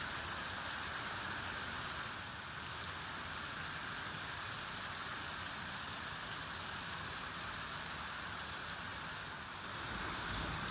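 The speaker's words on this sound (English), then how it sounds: "Still raining, and there's more to come." Steady, dense rain pours down during Hurricane Harvey in Braeswood Place, with floodwater entering a garage, forming an unbroken wash of hiss that stays loud and even throughout, with no voices.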